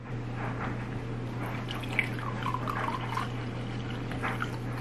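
Vinegar pours steadily into a bowl with a soft trickling, splashing sound over a constant low hum.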